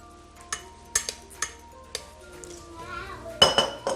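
Lomi noodles dropped into a cooking pot produce several sharp clinks and knocks of metal and utensils, spaced irregularly and ending in a louder cluster of clatter, close and moderately loud.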